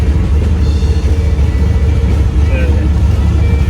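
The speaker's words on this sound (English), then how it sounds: "this thing hasn't run in about 2 months and it fired right up and held it idle pretty quick" A Willys car with a freshly rebuilt engine idles in a garage after sitting unrun for about two months, a loud, close, steady low rumble continuing without a break while someone talks over it.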